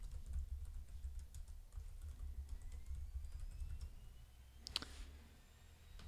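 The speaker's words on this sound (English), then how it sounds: "I'm going to go ahead and type my password here." A password is typed on a computer keyboard as a soft, steady patter of key clicks, close by and quiet, with one sharper tap near the end.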